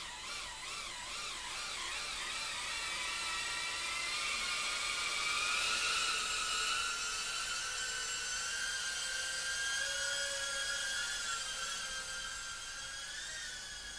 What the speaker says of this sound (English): A drone landing in Barbie's hair.